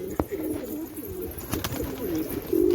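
Tournament pigeons with chicks drinking water from a bucket, low throaty coos rising and falling close by, with a few sharp knocks and wing flutters among them.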